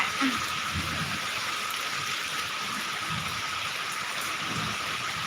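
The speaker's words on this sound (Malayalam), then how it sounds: "എന്താ ഭയങ്കര മഴയാണ്" A downpour of heavy rain hisses in a continuous, close, even wash of water noise, with a few faint low thumps beneath and no speech.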